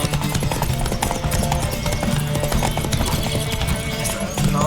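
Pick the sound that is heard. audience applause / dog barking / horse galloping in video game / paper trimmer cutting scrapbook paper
horse galloping in video game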